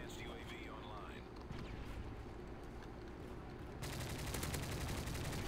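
Rapid automatic gunfire from a sentry gun in a video game, a steady dense rattle that grows louder and more intense in the final seconds, layered with other battle noise.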